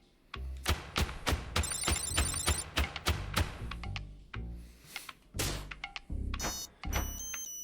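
Telephone ringing in the video game Thirsty Suitors, rapid electronic ring bursts repeating over a busy game soundtrack with thumps and other effects.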